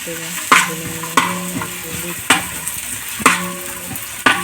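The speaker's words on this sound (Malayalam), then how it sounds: "സബോള ഒരു 2 സബോളയുടെ ജസ്റ്റ് ഒന്ന് അരിഞ്ഞിട്ട് നന്നായിട്ട് നൈസായിട്ട് അരിഞ്ഞിട്ട് അതിലേക്ക് ഇട്ടിട്ട് നന്നായി ഒന്ന് വഴറ്റിയെടുക്കുക" Finely chopped onions sauté in oil in a pan for biryani, a steady sizzle broken by regular scraping clacks of a spoon stirring against the pan, about once a second.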